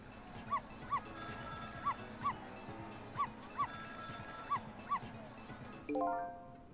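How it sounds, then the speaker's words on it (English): Game-style telephone ring from the apartment next door in Ghost Trick, heard as a series of short repeated trills spaced evenly across the clip, with a brighter tonal chime near the end over a soft background. "It was the sound of a telephone ringing coming from the apartment next door."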